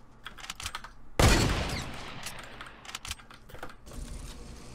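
Fortnite gunshots ring out as a sharp blast that tails off, followed by scattered quieter shots, all mixed with constant clicking keyboard typing close by.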